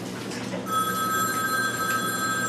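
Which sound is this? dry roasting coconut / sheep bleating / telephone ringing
telephone ringing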